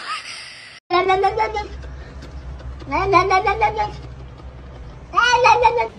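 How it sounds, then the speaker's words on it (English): A cat gives a few soft, quiet meows in short bursts, separated by pauses, over a low steady background hum. "His meow is so quiet."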